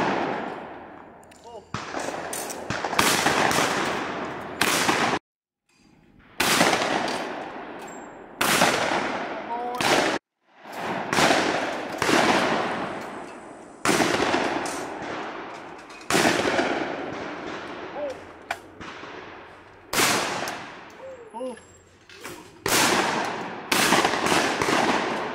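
A TriStar Setter S/T over-under 12 gauge shotgun fires repeatedly at an outdoor range, sharp loud blasts spaced a few seconds apart with echoing decay, some in quick pairs, as a voice speaks between shots.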